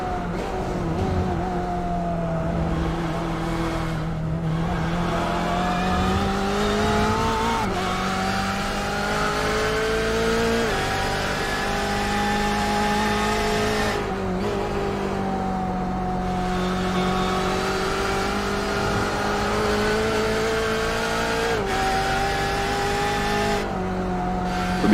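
Porsche race car engine in a 24-hour Le Mans endurance racing video game, a steady loud raspy drone with rising pitch sweeps through gear changes and brief lifts, continuous throughout with no talk.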